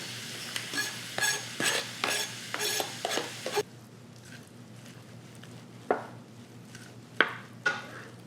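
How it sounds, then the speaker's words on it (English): Diced bacon, yellow onion and jalapeno sizzle in a frying pan under a series of rhythmic scraping stirs, followed by a softer steady sizzle broken by a few sharp utensil clinks. "let's fry up 5 pieces of diced bacon. Half of 1 yellow onion."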